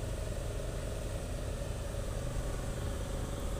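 An Isuzu mini dump truck engine running at a steady idle, a continuous low rumble with vibration, close and constant with no talking.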